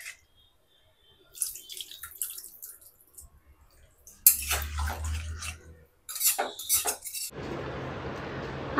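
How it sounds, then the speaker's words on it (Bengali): Water poured into a pan of chicken curry with potatoes and papaya, a rushing splash that turns into a loud sizzling hiss over clinking utensils, close and without speech. "ঝোলের জন্য জল দিয়ে দেবো।"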